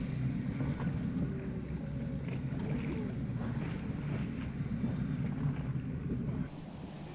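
Racing powerboats at the Cowes Powerboating Festival give a dull, distant engine roar mixed with wind buffeting and rushing water, steady throughout and dropping in level near the end.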